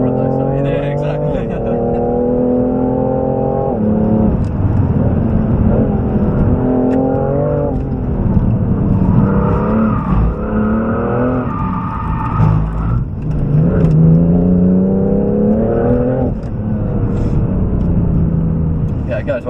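Engine of a four-door family car revs and pulls through the gears while driving, a loud, continuous drone with rising and falling pitch, with people talking over it inside the cabin.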